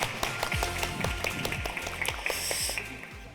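Lecture audience applauding at a history talk concert, a brisk run of overlapping handclaps with sharp individual claps standing out, fairly close and steady for a few seconds.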